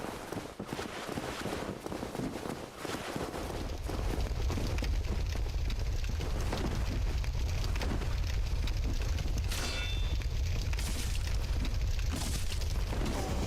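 Steady low roaring rumble of fire burning in the video game Dark Souls Remastered, swelling in after a few seconds and holding loud and continuous, with faint game effects on top.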